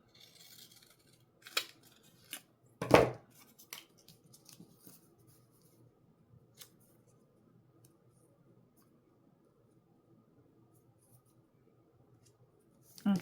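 Scissors snip through paper or card while it is sized up for a July 4th decoration, a few close, sharp cuts early on with one loud snip near three seconds, then quiet handling and a final click.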